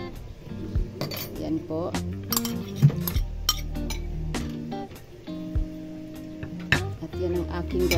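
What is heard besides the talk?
mixing canned tuna broth into the cabbage pan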